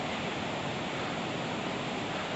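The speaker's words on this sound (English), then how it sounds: "the sound of the spring and the waterfall lulled us to sleep yesterday night" The Mandakini river and a nearby waterfall below a hotel balcony give a steady, dense roar of rushing water that holds unbroken for the whole stretch, with no voices.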